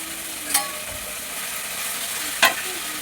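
Brinjal and tomato fry in a pan with salt, a steady low sizzle broken by two sharp stirring scrapes about two seconds apart.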